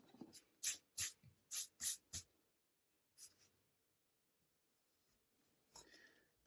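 An eraser rubs out pencil lines on paper behind drawn flower petals in short, quick scrubbing bursts, about six close strokes in a row, then a pause and a few fainter rubs.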